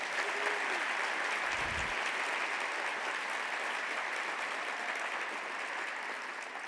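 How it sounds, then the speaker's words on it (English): A large audience of hundreds applauds the MCs at a medical match day ceremony, steady dense clapping filling the whole stretch evenly at moderate distance, with no voices over it. "Let's give one more round of applause for our fabulous MCs,"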